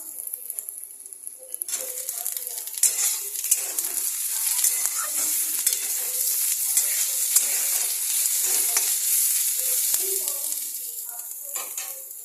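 Tomatoes dropped onto onions already fried red in a hot pan set off a loud, crackling sizzle with intermittent stirring scrapes and clinks, steady and close for the whole stretch.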